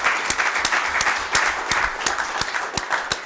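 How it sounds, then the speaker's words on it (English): Applause from a county board meeting audience, a sustained round of clapping from a modest crowd in a room, steady and fairly loud throughout. "So if we could just give them a round of applause."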